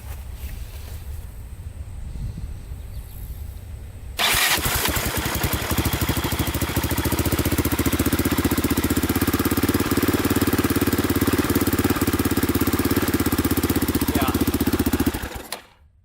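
A Yamaha Raptor 660 quad engine, a machine with a fuel leak at a fitting, catches abruptly after a quiet stretch and settles into a loud, steady idle that runs close by before cutting off at the end.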